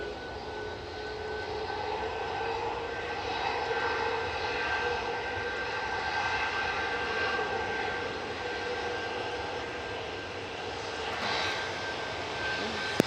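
An EasyJet jet airliner roars loudly and steadily at Manchester Airport, a broad sustained engine rumble with a whining tone that persists throughout without fading.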